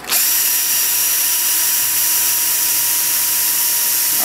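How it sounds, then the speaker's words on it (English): A power drill fitted with a small 1/16 inch bit bores into a hard piece of wood for a model build, whirring loud and steady from start to finish with no pauses. "Take your drill, and you just want a little 1/16 inch drill bit."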